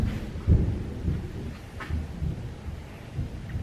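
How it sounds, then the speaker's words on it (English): Thunder rolls on a rainy day in Tarpon Springs, a low, soft rumble with a brief stronger burst near the start and a faint wash of rain around it. "You hear that thunder?"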